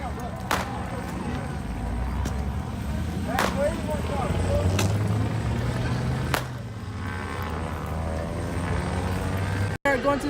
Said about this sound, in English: So we have the helicopter here now. Oh, he's circling us.